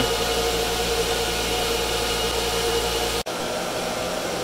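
Loud, steady roar of Antminer cryptocurrency mining machines with a constant whirring fan hum, filling a room in a house without pause, briefly cut off for a moment near the end.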